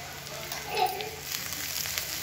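Chopped onions fry in a pan with a little sugar and salt for a paneer and peas curry, giving a soft, steady sizzle at close range with no talking.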